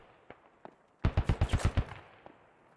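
A Bulldog armored vehicle's mounted gun in the game Squad fires a loud, rapid burst of about eight evenly spaced shots, preceded and followed by a few faint distant single shots.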